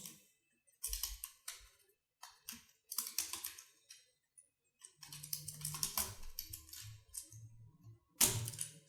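Typing on a computer keyboard during JavaScript work in the Chrome DevTools console, with quick bursts of soft clicking keystrokes broken by short pauses, close and fairly quiet, with no voices.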